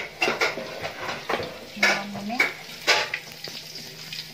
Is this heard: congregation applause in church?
no